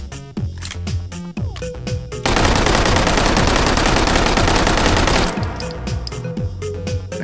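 A WWII submachine gun fires in the VR shooting game H3VR: a few separate shots and mechanical clacks, then a loud continuous automatic burst of about three seconds, followed by more handling clicks.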